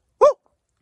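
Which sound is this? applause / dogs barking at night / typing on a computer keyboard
dogs barking at night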